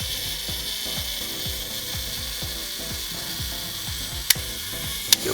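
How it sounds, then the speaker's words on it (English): The self-timer of an Olympus 35 RC film camera runs, its ratcheting gear mechanism buzzing with a steady train of rapid mechanical clicks, up close, then two sharp clicks near the end. "just fire the shutter, and it's gonna wind a little bit"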